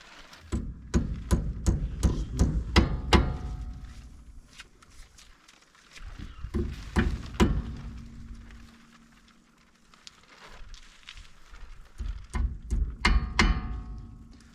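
A big hammer strikes the wheel bearing on a 1960 VW van in quick series of sharp metallic blows, pausing between bursts, close and fairly loud in a quiet workshop.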